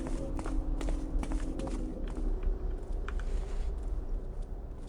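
A guard's footsteps approach in the stealth video game Thief 2: The Metal Age, a run of quick clacking steps over a low rumbling background, moderately loud and steady.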